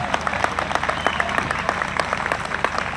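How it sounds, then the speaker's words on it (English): An audience at a Relay for Life event in Bury St Edmunds gives a round of applause for committee members, steady clapping of many hands with distinct claps standing out, with no talking over it. "a round of applause for all these committee members up here."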